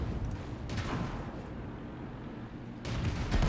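Tanks trading cannon fire in a Tier 5 deathmatch of World of Tanks, with deep booming shots and rumbling bursts near the start and again at the end over a continuous low battle roar.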